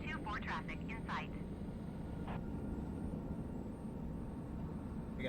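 Aircraft engines rumble in a steady, continuous drone at a busy simulated Los Angeles airport in Microsoft Flight Simulator 2020, with a few brief chirpy tones over the top near the start.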